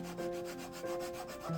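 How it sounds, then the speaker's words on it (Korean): Sandpaper rubbing back and forth over a 3D-printed part, a steady close scratchy rasp with a few rhythmic strokes and no voices. "이제 끝날 것 같아도 끝나지 않는 사포 작업을 합니다"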